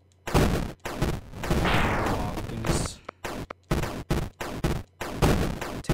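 Rifle gunfire in the video game Out There Somewhere, a run of sharp, close shots in quick bursts separated by short silences, with one longer sustained blast partway through.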